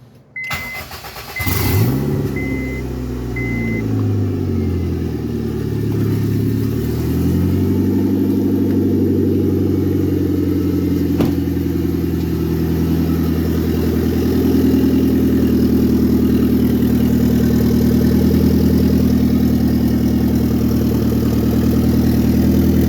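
A turbocharged Honda EM2 D17 engine cranks briefly, catches and settles into a steady, loud idle that continues unbroken to the end.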